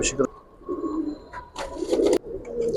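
Giribaz pigeons at a seller's loft coo in low, soft bursts, close and moderately loud, while someone talks over and between the calls.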